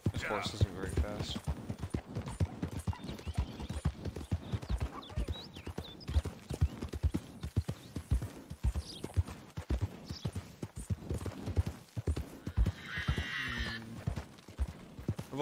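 Horse hooves clip-clopping in the video game Red Dead Redemption, a loud continuous rhythmic beat of hoofsteps with a whinny and other game sounds, under someone talking throughout.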